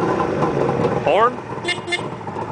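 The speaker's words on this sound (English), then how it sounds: "Horn." A 1972 Suzuki GT750 two-stroke motorcycle gives a couple of short horn toots in quick succession, close by, over idle background noise.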